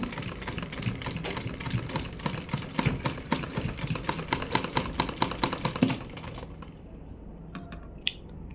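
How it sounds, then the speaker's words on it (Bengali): A sewing machine stitches fabric in a rapid, steady mechanical clatter for about six seconds, then stops, leaving a quiet room with a few faint clicks. "এখানে আমি ভালোভাবে সেলাই দিয়ে নেব।"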